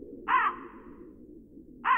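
Two harsh crow caws from the video game Qora, the first around a quarter second in and the second near the end, standing clearly above a low, steady ambient game background.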